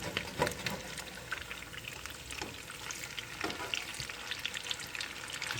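Herbed crab cakes sizzle and crackle steadily in a hot pan, with close, busy spattering pops throughout and no talking.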